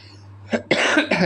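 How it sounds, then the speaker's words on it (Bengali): A person with a cold coughs a few times in quick succession, close and fairly loud, over a faint low hum. "বারবার কাশি আসতেছে"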